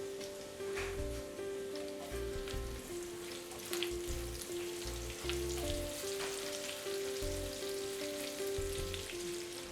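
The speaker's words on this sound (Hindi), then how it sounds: "ये भुन रहा है" Finely chopped green chilies fry in oil with hing, ajwain and ginger, a soft, steady sizzle like light rain, with faint stirring taps and a low, continuous tonal hum underneath.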